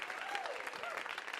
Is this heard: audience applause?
yes